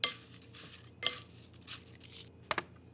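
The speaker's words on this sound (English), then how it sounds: "and just give this a stir." Apples are stirred with dark brown sugar and cinnamon in a bowl, with a spoon clinking and scraping against the dish in a few quick, close bursts, the sharpest taps near the end.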